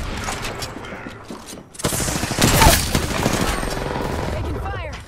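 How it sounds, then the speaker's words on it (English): Video game gunfire in a shooter, a dense run of rapid automatic bursts and sharp shots that cuts out briefly, then returns louder and sustained, with scattered impacts and effects layered over it. "Taking fire."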